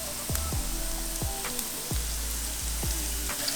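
Garlic sizzles in ghee for fried rice, a constant crackling fry close by, broken by several low descending thumps at an irregular pace.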